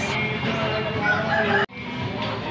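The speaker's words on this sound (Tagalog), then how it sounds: "dito pala itong mga manukan" Chickens and roosters at a village market cluck and crow continuously and close by, forming a busy poultry chorus over faint background bustle.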